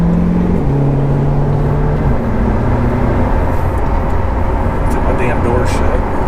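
2020 Chevrolet C8 Corvette driving, a steady low engine drone with a slowly shifting tone heard from inside the car, loud and continuous, a voice speaking over it.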